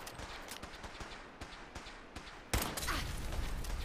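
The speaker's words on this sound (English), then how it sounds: "You're shooting me." Video game gunfire in Fallout 4: a rapid series of sharp shots crackles through the first stretch, then a louder, denser burst of firing and impact noise takes over near the end.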